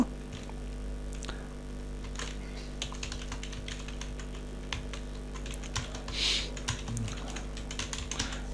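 Soft keyboard typing on a computer, a string of quick, light key taps running steadily over a low background hum, with no voice.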